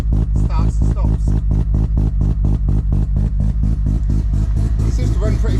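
A big-turbo semi-peripheral-port Mazda FD RX-7 rotary engine idles loud and close, its exhaust pulsing in a steady, choppy brap rhythm throughout.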